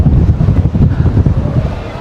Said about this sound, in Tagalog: Wind is getting stronger.